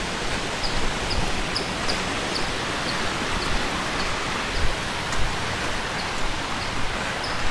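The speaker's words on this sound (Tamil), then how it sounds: "தண்ணி ஓடுற சத்தம் உங்களுக்கே கேட்கணும்னு நினைக்கிறேன்." Rushing water at Jalagamparai waterfall near a Murugan temple in Tirupathur, a steady broadband roar heard close and continuous, with faint intermittent splashes.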